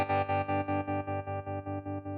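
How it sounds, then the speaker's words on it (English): A sustained guitar chord through a Headrush Flex Prime tremolo effect pulses in a steady, medium-fast tremolo, its volume rising and falling about eight times while gradually fading. "It gives you like that good medium to fast tremolo sound."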